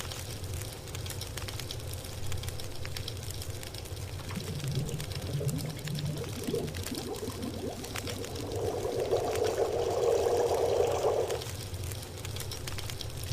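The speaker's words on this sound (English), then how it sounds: "I can boil water." Water heats over a fire in the survival game The Long Dark, a steady crackling, bubbling wash of sound that swells into a louder simmering rush near the end.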